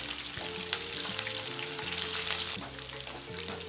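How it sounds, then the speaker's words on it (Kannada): Three or four green chillies fry in hot oil for bhel puri, giving a continuous crackling sizzle at close range with a few sharper pops, over faint low background tones. "ಮೂರಿಂದ 4 ಹಸಿಮೆಣಸಿನ್ಕಾಯಿ ಫ್ರೈ ಮಾಡ್ಕೊಳ್ತಾ ಇದ್ದೀನಿ ನೋಡಿ."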